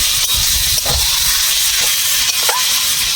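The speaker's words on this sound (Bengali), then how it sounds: "এবার কচুটা দিয়ে ভালো করে নেড়ে চেড়ে নিতে হবে, মশলার সাথে যাতে মিশে যায়।" Boiled taro leaves are stirred with spices in a hot pan, giving a loud, constant sizzle and hiss with a few soft scraping strokes from the stirring.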